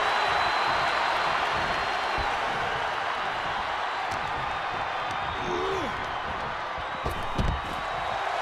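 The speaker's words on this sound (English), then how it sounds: "The sound of this crowd is deafening, and he's asking for more." An arena crowd in the wrestling game WWE 2K24, at a Sting versus Brock Lesnar match, roars continuously in a dense, loud wash of cheering with a few sharp thuds near the end.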